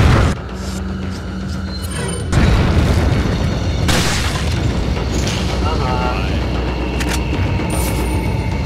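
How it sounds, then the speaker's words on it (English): A grenade goes off in Resident Evil 4, a loud boom with a broadband burst near the start, then another blast around the middle, followed by lingering rumble and game noise while a voice talks over it. "Grenade!"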